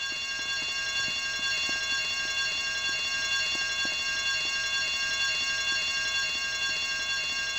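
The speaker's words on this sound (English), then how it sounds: "I told you not to touch that alarm!" An alarm rings in Grand Theft Auto: Vice City, a continuous electronic tone with a rapid, regular ticking pulse that holds steady and loud throughout, with no voices over it.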